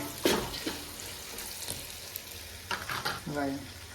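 Chicken with onion, bay leaf and spices is stirred in a hot pan, a soft frying sizzle under scattered utensil scrapes, with brief voices in the background.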